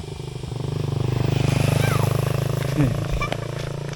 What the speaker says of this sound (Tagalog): Why, may motor, may motor.